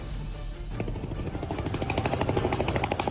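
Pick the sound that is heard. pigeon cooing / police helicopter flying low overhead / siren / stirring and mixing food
police helicopter flying low overhead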